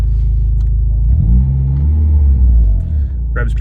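A 2000 Mitsubishi Galant VR4, newly running after a 12-year rebuild, idles with a loud, close rumble, then revs up in one smooth rise before settling back toward idle.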